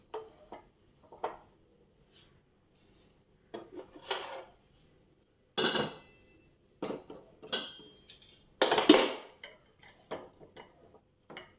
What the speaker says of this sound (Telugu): ఇప్పుడు ఆపేసి మూత పెట్టుకుందాం